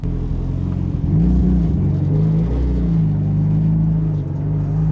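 Fully built Mitsubishi Lancer Evo 9 driving, heard from inside the cabin as a loud, steady engine drone with a rising and falling rev, deep rumble throughout and no talk.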